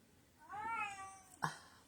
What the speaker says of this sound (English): My kitty, he started crying over there.